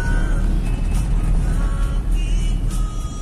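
A Toyota Kijang Krista climbs a hill in fourth gear, with a steady, loud engine drone and road rumble heard from inside the cabin and no talk.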